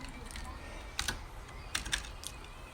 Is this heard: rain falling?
no